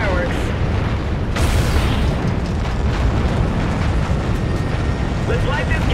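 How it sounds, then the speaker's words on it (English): A tower detonation in Call of Duty: Infinite Warfare sets off a heavy explosion with a sharp blast, then a long rumbling roar and debris crackle that stay loud throughout. "Visual on that tower detonation. Follow these pipes and watch the fireworks."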